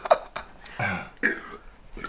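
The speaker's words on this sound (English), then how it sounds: "I know you probably hear her swallowing." A person eats sausages at an all-you-can-eat meal, gulping in several close, wet throat sounds with short gaps, one like a soft burp.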